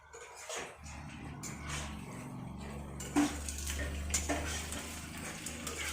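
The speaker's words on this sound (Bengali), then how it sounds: "দেখুন কত সুন্দর ভাজা হচ্ছে" Chicken pieces frying in a pan give a steady close sizzle throughout, with scattered clinks and scrapes of a utensil against the pan and no speech.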